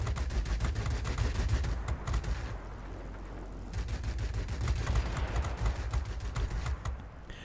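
The Yak-3RD's single 37mm cannon in World of Warplanes fires in loud, rapid bursts like a machine gun. A steady stream of shots breaks briefly in the middle, then the same fast fire resumes close and continuous.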